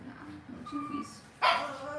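A Cavalier puppy gives a few soft yips and whimpers, then one louder bark near the end, with people talking faintly in the room.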